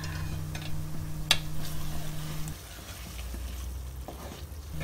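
Beef curry with cauliflower and garam masala frying in a pot, a soft continuous sizzle with occasional stirring clinks, a steady hum underneath that drops out halfway through.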